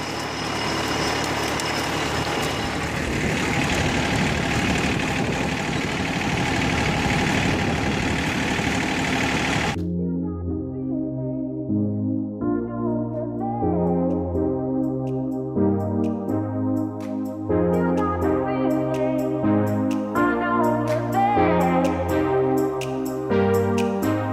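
A John Deere 4410 tractor pulling a disk through a field drones with a steady, close engine rumble for about ten seconds, then gives way to music for the rest.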